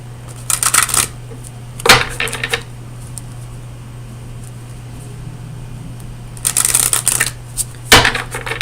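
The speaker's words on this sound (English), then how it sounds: "let me get you a card from the Oracle of Visions" Oracle cards being shuffled and riffled in four bursts of crisp fluttering card noise, close up, over a steady low electrical hum.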